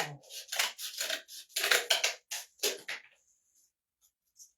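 Scissors cut through cardboard in a quick series of close, crisp snipping strokes lasting about three seconds, then near silence with a couple of faint ticks.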